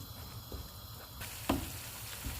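Onion-tomato chutney paste cooking in a pan with cumin, a quiet steady sizzle with a few soft stirring knocks and no talk.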